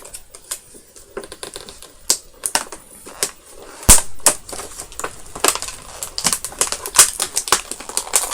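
Product packaging being torn open by hand, a series of close crinkly rips and crackles in irregular bursts, some sharp and loud, with no talking over them.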